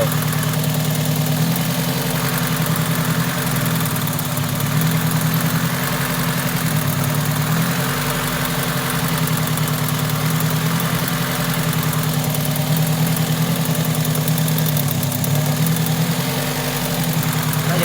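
A 2002 Honda City engine idles with a dead cylinder, giving a steady loud low hum with a faint uneven pulsing throb that persists throughout, close to the microphone and with no talking.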